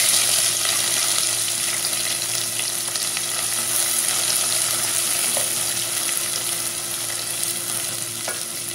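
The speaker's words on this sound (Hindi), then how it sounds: "अब इसमें प्याज डालेंगे" Chopped onion fries in ghee and oil for a potato pulao, giving a loud, continuous sizzle with faint stirring clicks throughout; no voices.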